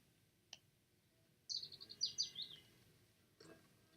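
A budgie chirps in a short run of quick, high, twittering notes, with a lone faint chirp before and a softer one after, over a low, quiet background hum.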